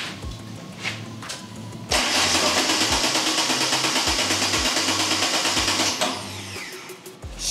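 An engine on a GM training bench cranks several times in a rhythmic starter whir, catches loudly around two seconds in, then holds a steady close idle with regular pulsing before easing slightly near the end.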